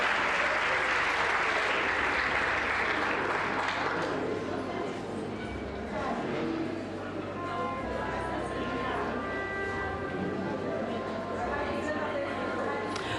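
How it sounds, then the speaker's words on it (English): Warm applause from an awards-ceremony audience at a women-in-science event, a dense, steady clapping that fills the room for about four seconds, then thins into scattered claps and murmuring with a voice speaking over it. "A warm round of applause, ladies and gentlemen"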